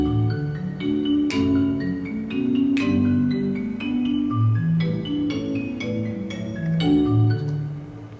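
A five-octave marimba duo plays a new piece, mallets striking wooden bars in flowing overlapping lines, warm low notes rolling under brighter struck accents, close and steady with no talking.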